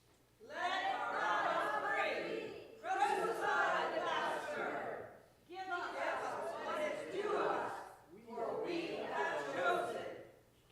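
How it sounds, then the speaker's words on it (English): A large crowd raises a tumult calling for Barabbas' release, with loud massed shouting voices in four long surges separated by brief pauses. "A large tumult arose in the crowd, and they called again for Barabbas' release."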